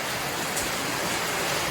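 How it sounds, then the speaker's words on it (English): Heavy rain falls steadily with a dense, continuous hiss that stays even and close throughout, and no voices are heard. "Here we go again with the rain."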